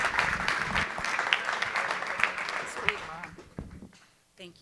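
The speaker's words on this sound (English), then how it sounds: "Can everyone please round of applause for Commissioner?" Audience applause for a Commissioner at a business event on cutting red tape, a sustained burst of clapping that thins out and fades toward the end, with a few isolated claps and faint voices.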